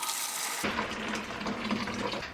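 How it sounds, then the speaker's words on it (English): Water gushes steadily into a bucket being filled for dyeing fabric, a close, continuous splashing rush that starts abruptly and keeps going. "I'm gonna pour all this water in here"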